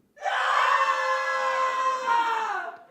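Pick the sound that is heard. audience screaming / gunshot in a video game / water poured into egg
audience screaming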